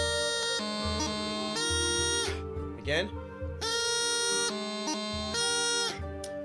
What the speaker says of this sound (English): another grip that is common, especially in Skull and the Brave, for example, is a high A with a grip